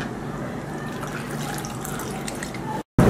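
Water is poured into a bowl of ragi dosa batter, a steady trickling splash running close up and alone, stopping abruptly near the end.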